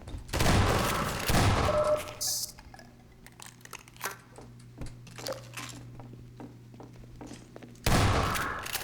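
Loud shotgun blasts in Half-Life 2, two heavy bursts at the start and another near the end, with metallic clinks and rattles in the quieter stretch between.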